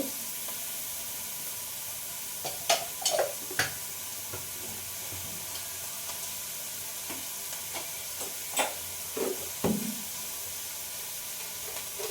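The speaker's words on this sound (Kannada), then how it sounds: "ಇದು ಫ್ರೈ ಆಗ್ತೈತೆ." Food fries in a pan with a soft, constant sizzling hiss, broken by a few sharp clinks and scrapes of stirring.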